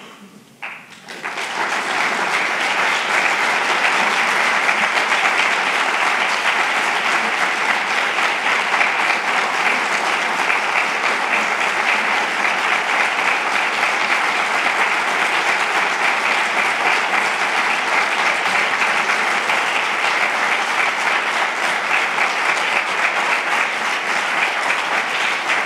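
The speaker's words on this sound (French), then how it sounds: "les applaudissements nourris que tu viens" A large audience at a Nantes métropole development council meeting breaks into sustained applause that swells within the first second, then holds as a thick, even roar of clapping for over twenty seconds.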